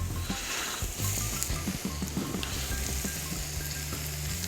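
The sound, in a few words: mussels sizzling in a pan with onions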